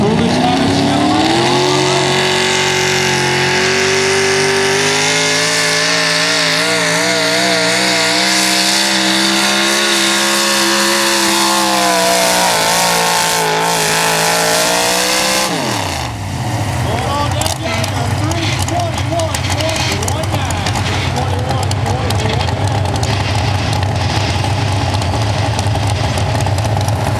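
A Chevrolet 4x4 truck at a National Sportsman 4x4 truck pull in Craigsville, Virginia revs hard in a loud, wavering roar that climbs and pulses for about fifteen seconds, then drops to a rough, rumbling lope while an announcer talks over it.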